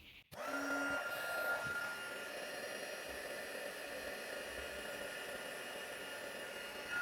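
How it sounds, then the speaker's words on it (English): A heat tool melts white embossing powder on cardstock, giving a steady, close blowing hiss like a small hair dryer that switches on sharply and runs evenly throughout. "So I heat that up with my heat tool."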